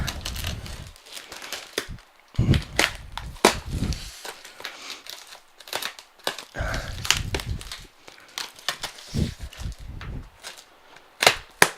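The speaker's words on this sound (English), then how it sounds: "let's peel into this and unveil this. Got my little box cutter here" A box cutter slices open a cardboard box during a Commodore 64 unboxing, with irregular bursts of scraping, tearing and crinkling cardboard, sharp clicks and knocks, and short quiet gaps between strokes. No voices are heard.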